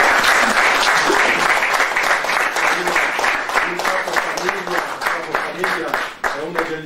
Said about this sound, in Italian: Un ringraziamento particolare ai padroni di casa, la famiglia Brusco, direi un applauso.